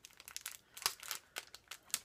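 Plastic package of stickers being opened, a run of quiet crinkling and crackling bursts in irregular rhythm, close by and faint with no voices.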